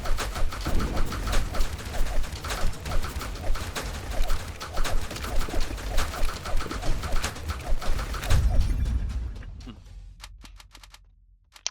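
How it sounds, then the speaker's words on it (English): Enemies in the video game God of Weapons shoot projectiles in a rapid, steady string of sharp shots that stay loud, then thin out and fade at the end. "They are starting to shoot out projectiles now."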